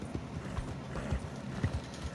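Horses' hooves clip-clop at a walking pace, a short run of uneven, fairly close thuds on hard ground with no voices.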